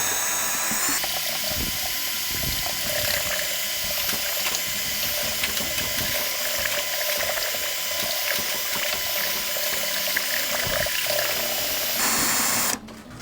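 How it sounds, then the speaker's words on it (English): A power drill fitted with a stirring paddle churns Bora Care termite treatment solution in a container, a close, sustained whirring grind with sloshing that runs steadily before cutting off near the end, with no talking. "now we're going to take our drill with our stir"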